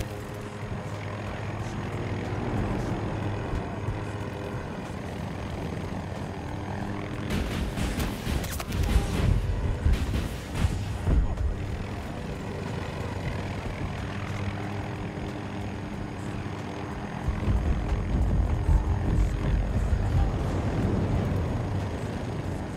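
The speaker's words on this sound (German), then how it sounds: "Jet in der Luft, ne?" Jet aircraft in Battlefield 2042 flying overhead, a rushing engine roar that swells loudly in the middle and again near the end over continuous battle ambience.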